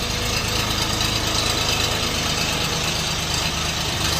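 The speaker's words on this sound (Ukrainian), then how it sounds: "Тракторець у нас трьохциліндровий, задньопривідний, регулюється передня задня колія." A Xingtai 240 three-cylinder, rear-wheel-drive tractor engine idles steadily close by, giving a continuous low, even rumble with no breaks and no voices.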